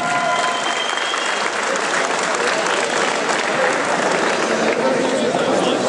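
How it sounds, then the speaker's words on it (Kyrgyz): An audience at a football league award ceremony applauds four teams, a dense, sustained wash of clapping from a large crowd that carries on steadily without a break. "4 командага бир кол чаап коелу."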